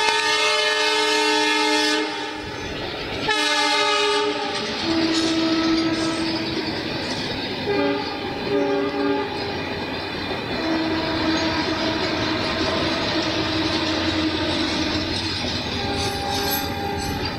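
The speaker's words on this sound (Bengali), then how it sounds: "ট্রেনের আওয়াজে আমাদের সবার আওয়াজ চাপা দিয়ে দেয়" A loud train rumbles past close by, its horn blaring in long sustained blasts at the start, wheels clattering and screeching steadily throughout.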